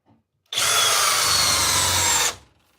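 A cordless drill in drill mode at speed 2 drives a 6-inch Timberlok screw into wood, one loud, steady whirring burst of almost two seconds that cuts off abruptly.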